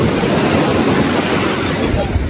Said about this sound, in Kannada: ಅಲೆಗಳು ಕಾಯುತ್ತಿವೆ ಸಮುದ್ರದಲ್ಲಿ.